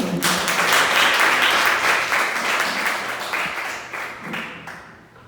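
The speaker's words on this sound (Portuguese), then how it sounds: "E a igreja aplaude ao Senhor." A church congregation applauding during a service, a dense, steady wash of many hands clapping together that holds strong before thinning and fading toward the end.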